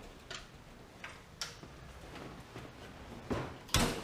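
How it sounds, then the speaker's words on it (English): An oven door on a freshly repaired spring-loaded hinge is worked and shut, giving several sharp, quiet clicks and knocks spread out over a few seconds, with the loudest thuds at the end. "Door shuts."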